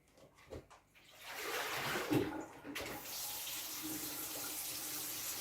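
Water running from a kitchen tap in a country kitchen, starting with a few clattering handling sounds before a steady, close rush of flowing water settles in and continues to the end, no voices.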